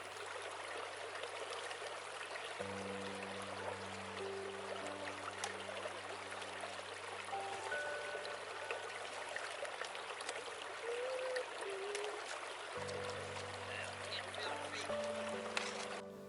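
Water of Lusk Creek, a cold stream in Shawnee National Forest, flows with a steady broadband rush and trickle, with faint tonal hums and chirps layered in.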